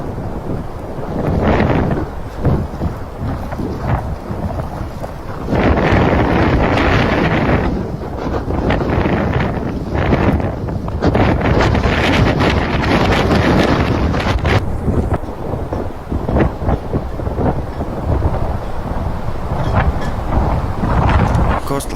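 Strong wind from a Buffalo blizzard roars steadily and loudly across the microphone, a dense rumbling rush that swells and buffets throughout with no pause.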